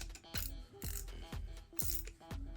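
A Craftsman V-Series ratcheting wrench ticks in a steady run of close, sharp metallic clicks, roughly two per second, with a faint mechanical rasp between strokes.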